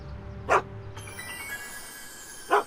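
A dog named Einstein barks twice in the Back to the Future video game, two short sharp barks a couple of seconds apart over a quiet musical background.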